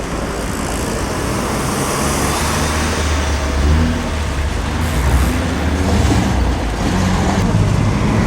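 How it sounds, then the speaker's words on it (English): A classic Alfa Romeo drives past, a loud continuous engine roar with a slight swell as it goes by, under outdoor background noise. "Alfa Romeo."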